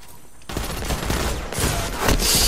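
Gunfire in the Destiny 2 video game: a rapid burst of shots after a quiet start, with loud cracks and booms continuing close and dense for the rest of the moment.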